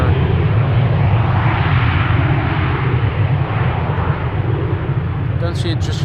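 Emirates SkyCargo freighter jet passing at Amsterdam Schiphol, a loud, sustained engine rumble with heavy low-end roar that stays constant, a brief higher clatter near the end.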